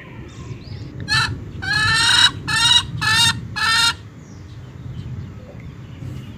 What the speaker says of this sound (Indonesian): ternyata ada ayam betina